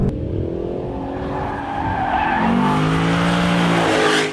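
A Lexus LC500 convertible slides on a race track, with loud, continuous tire squeal and skidding over a rising engine drone whose tone sweeps upward as the car pulls through the slide.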